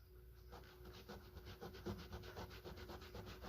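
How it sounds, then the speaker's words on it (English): A wet towel and a finger rub a dirty spot, making a faint, steady rhythmic scrubbing of repeated short strokes throughout, with no talking. "Rub it with my finger."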